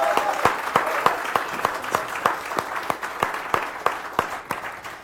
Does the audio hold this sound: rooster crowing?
no